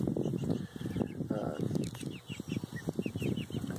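Chickens in a portable chicken tractor cluck and murmur in short bursts, close by, with a person talking over them at times.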